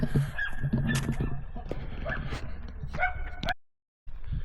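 Dogs yip and bark in short bursts amid outdoor bustle at Petra, Jordan, with some animal whimpering, then a brief silence before noise resumes.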